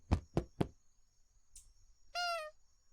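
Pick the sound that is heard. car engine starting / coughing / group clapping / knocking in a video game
knocking in a video game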